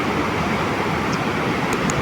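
A large mudflow of rushing floodwater surges past, a dense continuous roar of churning water at close range, loud and unbroken, with no voices.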